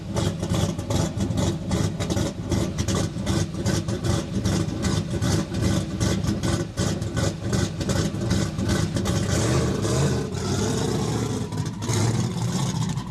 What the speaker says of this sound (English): This is called a power skid.